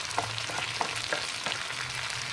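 Chopped anchovy fillets being stirred into a sizzling Sri Lankan egg curry in a pan, a steady close frying hiss with soft scraping stirs recurring through it.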